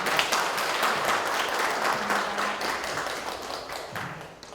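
An audience applauds a professor after a diabetes health lecture at a university hospital, giving a dense, even round of clapping that holds steady and then tapers slightly at the end.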